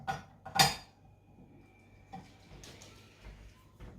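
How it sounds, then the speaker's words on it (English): A paddle attachment fitted onto a stand mixer for Easter bread dough, with two sharp metallic clanks close together at the start, then quieter fiddling knocks and small clicks, no talking. "I'm going to attach the yeast mixture to my mixer and put the"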